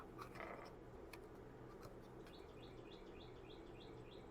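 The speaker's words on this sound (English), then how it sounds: "I heard a bird start singing." A bird sings outside a house, a run of repeated short chirping phrases over steady low hum and background noise, fairly faint and distant.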